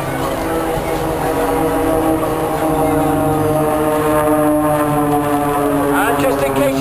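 Aerobatic jet aircraft performing a low pass and upward spin at the Eastbourne airshow, a loud sustained engine roar with steady droning harmonics across the whole span, with commentary talking over it.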